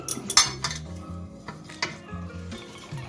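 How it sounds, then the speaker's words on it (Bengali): A knife cuts through a bunch of cauliflower leaf greens a second time on a cutting surface, giving a few sharp chopping knocks and scraping clinks with short pauses between them, close and fairly loud with no one talking. "এভাবে আমি দ্বিতীয়বার শাকটাকে কেটে নিচ্ছি"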